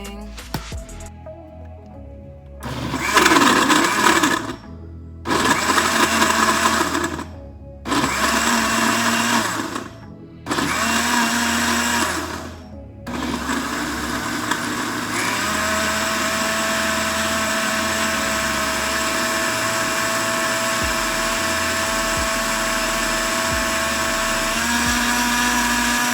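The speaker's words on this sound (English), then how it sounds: "So I'm just gonna put the lid on and we're gonna start blending." A countertop blender blends a healthy green smoothie: four loud whirring bursts with short pauses between them, then one long continuous high-speed roar, no voices.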